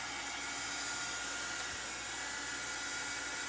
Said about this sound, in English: Now, I'm just using a heat gun to dry this.